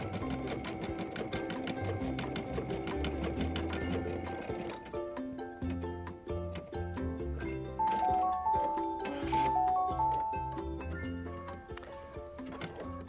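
An embroidery machine stitches a Sunbonnet Sue design on fabric, its needle hammering in a fast, steady mechanical rhythm, loud and close, with the whirring tone changing partway through.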